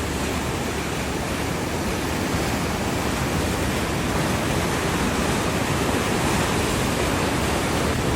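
The Susquehanna River pours past at full flow near a fishing spot, a steady, dense broadband rush of water that stays loud and unbroken throughout with no voices.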